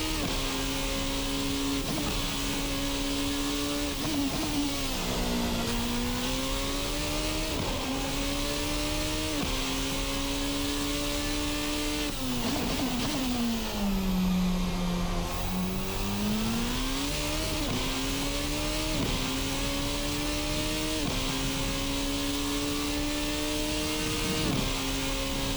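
Formula RSS Supreme race car in a racing simulator, its high-pitched engine note rising and falling steadily with throttle and gear changes over a long continuous run, including a deep dip mid-lap.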